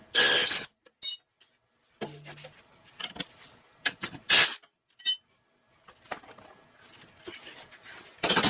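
Lockout bolts going into a G35 drift car, with metallic clinks, ratcheting and rubbing of tools and hardware in short irregular bursts separated by quiet gaps.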